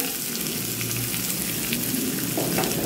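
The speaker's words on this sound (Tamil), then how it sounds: "கருவேப்பிலை புரிஞ்சோடனே வெங்காயத்தை போட்டு" Steady sizzling and crackling of onions frying in hot oil with a mustard seed, dried chili and curry leaf tempering, continuous and close, no voices.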